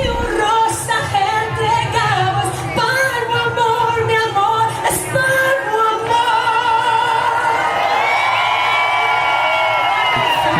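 A crowd cheers and whoops with shouting voices, sustained and lively throughout, with high excited cries rising near the end.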